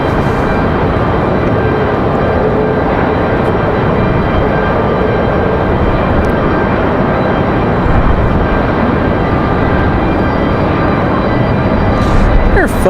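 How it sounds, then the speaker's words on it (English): A Republic Airways jet departing Raleigh-Durham for JFK in windy conditions produces a steady, fairly loud engine rumble that swells slightly near the end, with talk over it at times. "This departure is headed off to JFK, Republic Airways 5599."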